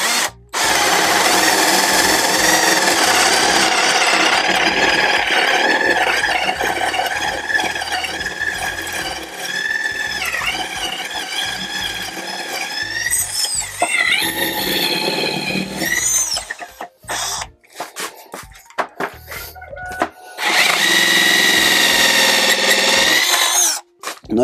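A Stanley Fatmax FMC600D2 cordless drill bores into a metal beam, whining loudly and steadily close by with shifting pitch, then stopping, stuttering in short bursts and revving up again near the end. No talk.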